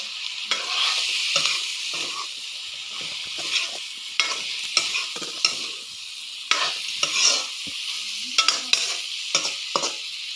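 Potatoes tumble into a pan of cooking meat for a kolmo potato dish and get stirred, with steady sizzling frying under frequent scraping and clattering strokes of a spoon, close and alone.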